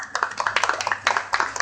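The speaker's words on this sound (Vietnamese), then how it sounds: "chúng tôi mượn một tràng pháo tay nữa để xin cảm ơn tất cả quý vị" An audience at a live event gives a burst of applause, scattered claps rattling close and loud for a brief moment with faint voices underneath.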